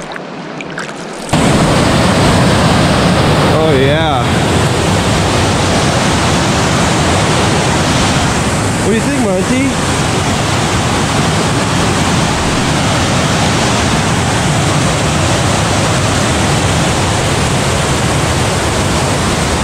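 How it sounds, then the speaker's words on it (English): A big waterfall in cold autumn wilderness, a steady loud broadband roar of falling water filling the whole stretch after a brief quieter start, with a short spoken remark briefly over it. "I hear a big old waterfall over here."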